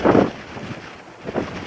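Wind gusting across open mountain terrain in Setesdal, Norway, buffeting the microphone in loud rushing bursts at the start and end with a softer, steady blow between.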